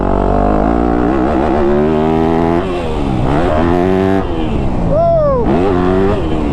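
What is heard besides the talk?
motocross dirt bike engine revving on track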